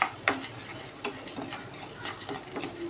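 Fenugreek seeds and peppercorns being dry-roasted in a pan for idi sambar, heard as faint scraping stirs and light rattling clicks of the spatula at an irregular rhythm, close and quiet with no talk.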